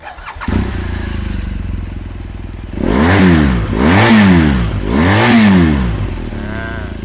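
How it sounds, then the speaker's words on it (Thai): A BMW R1200GSA motorcycle with about 19,300 km idles steadily, then is loudly revved three times in quick succession, each rise and fall of the boxer engine clear and close, with no talk. "ฟังเสียงเครื่องกันหน่อย"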